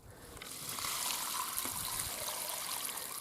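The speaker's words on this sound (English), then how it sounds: "So, I'm going to dump off this water." Water being dumped out of a container after soaking beaver tails, a steady splashing pour that swells after a soft start and runs for a few seconds, close by with no voices.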